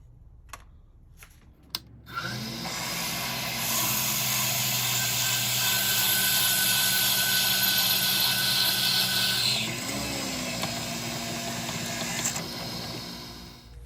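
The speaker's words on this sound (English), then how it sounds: "I have my 1/2-inch drill bit here inside, and we're gonna drill this out 2 3/8 inches deep" A 1/2-inch drill bit bores a hole 2 3/8 inches deep into wood for a George Nakashima style cap. A few clicks come first, then a loud, steady motor whine runs for about eleven seconds and dips in pitch midway.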